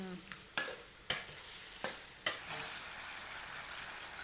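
Fried long eggplant with minced pork stirred in a pan, a spatula scraping in a few sharp separate strokes over a faint steady sizzle, then settling into a soft continuous fry.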